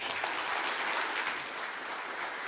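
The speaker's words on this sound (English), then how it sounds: "Big round of applause" An audience applauds a speaker at the close of a business talk, dense steady clapping from a sizable crowd throughout, indoors, with no voices over it.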